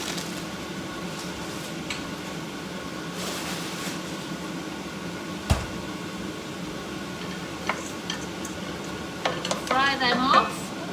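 Frozen vegetables frying in a pan for a beef madras hotpot, a steady low sizzle with occasional stirring clatter and scraping, ending in a louder flurry of pan noise near the end.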